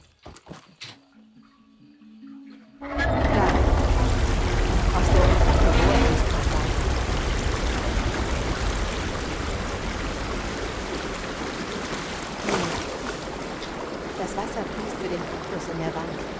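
Water surges in quickly and fills a ruin in Horizon Forbidden West, a loud, broad rushing roar that starts abruptly after a quiet moment and keeps flowing steadily, with a brief splash partway through.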